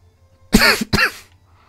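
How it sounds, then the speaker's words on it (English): Two sharp coughs in quick succession, close and loud, followed by quiet. "sorry about the cough. I'm not sure why I'm coughing so much."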